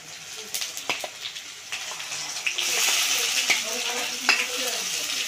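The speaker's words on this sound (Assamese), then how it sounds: "আগে আদা ৰহুন দি দিওঁ তাৰপিছত পিঁয়াজ দিওঁ" Ginger, garlic and onion sizzle and fry steadily in a pan, and a utensil stirs them in short scrapes. The frying grows louder and denser partway through.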